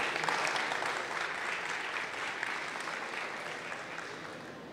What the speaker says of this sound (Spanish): Por favor, denle un aplauso.